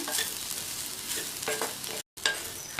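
Carrot poriyal mixed with spice powder is stirred in a hot pan, a close hiss of frying broken by scraping strokes and one brief cut to silence near the end, with no voices.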